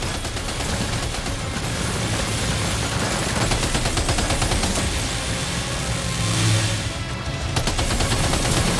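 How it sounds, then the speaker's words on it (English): Sustained gunfire in the video game Death Stranding 2, rapid bursts of shots layered over a dense, loud battle din that swells briefly near the end. "Opening fire now."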